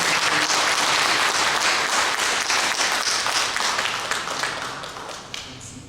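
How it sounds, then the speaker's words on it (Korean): A church congregation applauds during a Sunday worship service at a Korean church in Chile, a dense steady wash of many clapping hands that holds throughout and softens slightly toward the end. "잠깐 일어날 때 박수로"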